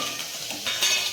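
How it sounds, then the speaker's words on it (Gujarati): Green chillies sizzling in hot tempering oil for an aubergine bharta, a steady close hiss of frying that swells briefly near the end, with faint stirring in the pan. "એટલે હવે નાખી દીધા છે મરચાં."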